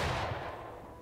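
Musket gunfire in War of Rights, a Civil War game, during a mock skirmish: a dense, rumbling volley of shots that fades out over about a second, with no voices.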